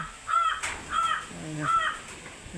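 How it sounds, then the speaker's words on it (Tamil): Crows cawing at dawn in several short, harsh calls spaced apart, fairly close and clear against a quiet background. "காகம் வந்து காலையிலேயே சரியவே தொடங்கிட்டுது"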